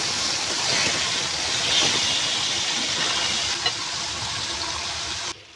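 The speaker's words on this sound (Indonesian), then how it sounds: "prito muna natin itong bulig" Bulig, a snakehead fish, fries in hot oil with a steady, close, broadband hiss and sizzle that runs unbroken for several seconds before cutting off. No voices are heard.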